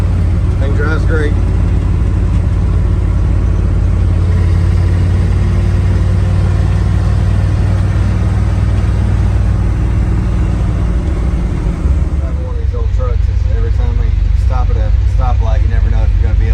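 A car recently fitted with a new starter solenoid drives around town, its engine giving a loud, steady rumble that eases into a lower, idling tone toward the end.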